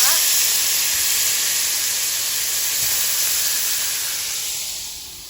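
Broccoli pieces sizzle and hiss steadily in a hot pan, a continuous bright spitting texture that fades slightly toward the end.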